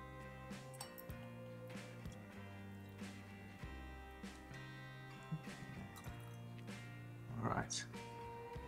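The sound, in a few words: pouring a dram of Glengoyne 12 whisky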